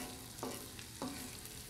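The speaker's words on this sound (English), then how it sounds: "I will go ahead and add my mushrooms and my the marinade, a little bit of the marinade that I've got in there" Mushrooms and marinade cooking outdoors at night on a Camp Chef FTG600 griddle, a faint steady sizzle with two brief scraping stirs of a spatula, no talking.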